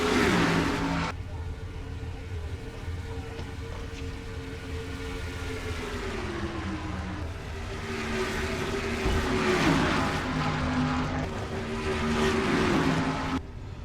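Stock cars in a Dodge Challenger 500 round of a racing sim game roar around an oval track, with layered engine drones rising and falling in pitch as several cars pass and accelerate near the wall, loud and continuous.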